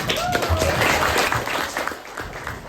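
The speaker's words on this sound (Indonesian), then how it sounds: "Tepuk tangan semuanya." A classroom of students applauds together, a short burst of dense, mid-loud clapping that thins out toward the end, with voices talking over it.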